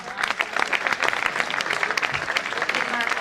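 Audience at a kavi sammelan poetry gathering clapping for the poets, brisk uneven hand claps close and fairly loud, with some voices mixed in.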